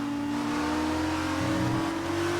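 Race car engine in a racing video game, revving hard and holding a high, steady whine with a shift in pitch partway through, loud and close with no talking.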